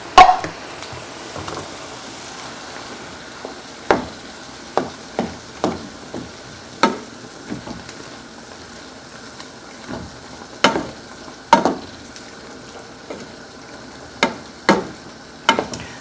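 Mushrooms simmering in canned tomato soup in a pan as a shepherd's pie filling, with a steady low sizzle under repeated spoon scrapes and taps against the pan, some louder than others, spaced irregularly throughout.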